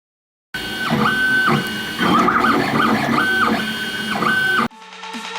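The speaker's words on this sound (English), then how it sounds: "I'm 3D printing boxes for the board game Pandemic" A 3D printer printing game boxes for the board game Pandemic whirs and buzzes up close, its stepper motors sounding repeated rising and falling tonal sweeps in a steady mechanical rhythm that stops abruptly near the end.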